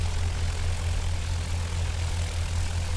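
An airplane taxiing in X-Plane 10 gives a steady, loud low engine drone with a propeller hum, unbroken and alone throughout.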